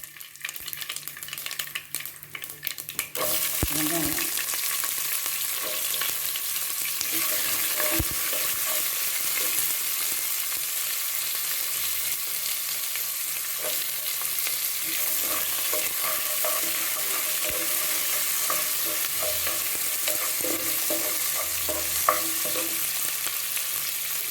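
Mixed vegetables including drumstick sautéing in a pan for sambar, a steady loud sizzle and frying hiss running continuously with occasional stirring scrapes, no speech.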